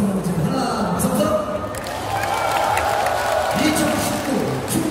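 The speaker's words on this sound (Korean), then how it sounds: "크게 박수 한번 주세요" A crowd at the 2019 Chungju World Martial Arts Festival special concert claps and cheers in a steady, busy wash, with a voice amplified over a sound system talking on top of it.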